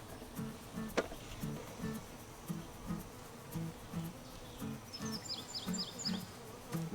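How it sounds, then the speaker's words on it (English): Honey bees buzz steadily inside a beehive during an inspection, a continuous low drone with rhythmic pulses and brief higher buzzes as individual bees pass near, moderately faint and with no talking. "There's a few bees up in it, but nothing really going on."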